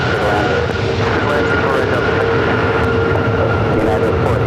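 An Airbus airliner landing at Los Angeles airport gives a loud, steady engine roar that holds at constant strength throughout, with no speech heard.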